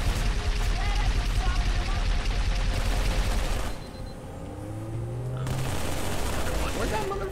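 Halo 3 co-op firefight with dense, continuous automatic gunfire and blasts that thin briefly near the end before resuming, while players shout over the shooting.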